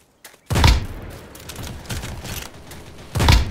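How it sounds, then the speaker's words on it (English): Gunfire in a sniper video game: a few loud, punchy shots with booming low ends, spaced apart and close, with softer rumbling impacts in between. "I'm getting shot at!"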